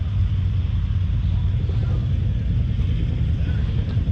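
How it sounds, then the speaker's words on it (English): A 1000 cc Kawasaki Concours motorcycle at an antique motorcycle club meet produces a steady, loud, low engine rumble close by, with no pause in the sound. "Kawasaki Concours."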